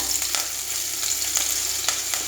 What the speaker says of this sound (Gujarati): લસણ અને આ બધું એક સાથે જ આપણે અંદર એડ કરી દઈશું।